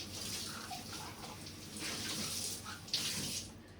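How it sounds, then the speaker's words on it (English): Tap water runs steadily into a jar as it is rinsed clean in a kitchen, a close, continuous splashing rush with small shifts as the jar moves under the stream, and no talking. "Let me rinse this out real good, because you want your jars and everything real clean when you do this."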